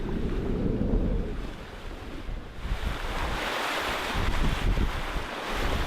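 Wind rushes steadily and ocean waves wash past a sailboat running downwind on a long ocean passage, with the pole out in light wind; a continuous loud roar of surf and gusts with no voices.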